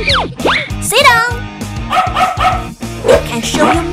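A toy robot balloon dog that responds to head pats gives a string of electronic barks, yips and whimpers, close and loud, with a person talking over and between the sounds.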